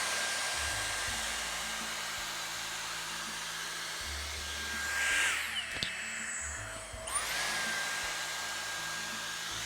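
A Dyson Airstrait straightener blows a steady, loud stream of air while hair is pulled down between its plates, a continuous whooshing hum with a brief shift in tone midway, heard alone and close.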